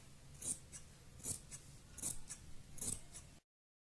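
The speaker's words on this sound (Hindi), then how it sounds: "आप थोड़ा थोड़ा सा कपड़ा बाहर की साइड से ये काट सकते हैं इस तरह से" Scissors trimming excess fabric while making handmade fabric buttons, four close, crisp snips at a steady pace with small rustles between, ending abruptly.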